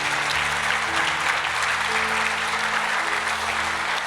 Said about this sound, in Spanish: ¿Cuántos dan gracias y aplauden la fidelidad del Señor?